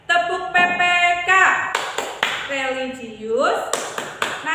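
A teacher leads schoolchildren in an Indonesian classroom through the 'Tepuk PPK' clapping chant: sharp, close handclaps in short rhythmic groups alternate with sung and chanted voices.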